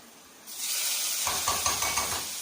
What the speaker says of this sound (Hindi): जीरा डाल के आंच हम बंद कर देंगे क्योंकि हमारा देसी घी जो बहुत गर्म है इसके अंदर हो जाएगा फ्राई।